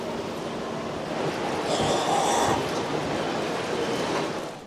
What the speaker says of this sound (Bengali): এখান থেকে মোটামুটি ট্রেনটা বেশ ভালোই যায়।